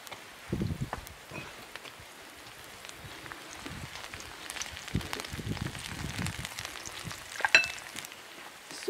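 Onions in heated olive oil for a Ghanaian egusi stew give a soft, uneven sizzle with crackles and occasional spoon scrapes, fairly quiet and close, building slightly toward the end.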